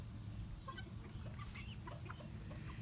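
A young rooster attempts a crow among a flock of chickens, including Polish hens, with scattered soft clucks and short bird calls over steady low barnyard noise.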